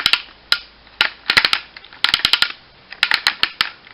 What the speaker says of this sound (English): most of them are ratchet joints because he was a Cybertron toy and he needs them to be like stable